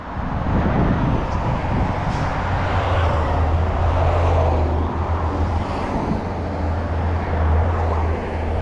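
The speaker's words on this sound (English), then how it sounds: "Uh-oh, there's a bunch of cars." Heavy traffic streams steadily past on a busy city street beside an uneven walkway, a continuous loud roar of car and engine noise with a low rumble and no breaks.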